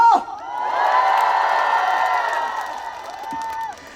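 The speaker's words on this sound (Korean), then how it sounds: "다시 한번 박수 함사!" A festival crowd cheers and whoops at an outdoor trot music stage in Namchang, with the sustained noise swelling loud for several seconds before tapering, and a few scattered shouts near the end.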